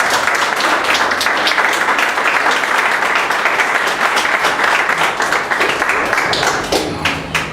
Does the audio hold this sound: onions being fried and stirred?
no